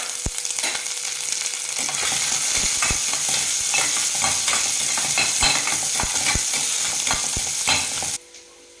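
Small onions sizzle steadily in hot oil in a pan for a Tamil kulambu, with frequent scraping stirs and clanks of a spatula. The sound is loud and close and continues almost the whole time before it drops off abruptly at the end.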